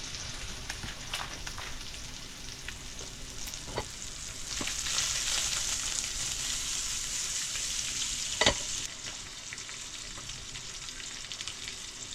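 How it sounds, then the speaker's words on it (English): Steak sizzles steadily in a pan inside an ice fishing shack, a constant close frying hiss broken by a few sharp pops and crackles, with no talking. "It's already sizzling though."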